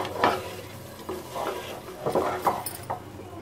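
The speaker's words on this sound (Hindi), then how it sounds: "ये देखिए, इस तरह से चलाते हुए भून लेंगे थोड़ा सा" Rice with desi ghee for matar pulao being stirred and roasted in a pan, giving repeated scraping and rustling strokes with a faint sizzle and light clinks of the spoon against the pan.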